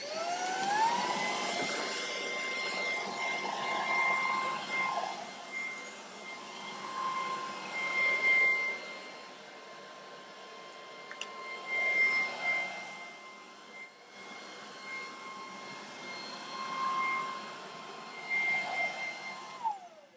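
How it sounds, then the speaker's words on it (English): An Ultenic U10 Ultra stick vacuum with its brush tool cleans along base trim, a steady high whine with a tonal hum that swells and dips as the head moves, fairly quiet and alone. "For this I can install the brush tool and I can clean that trim."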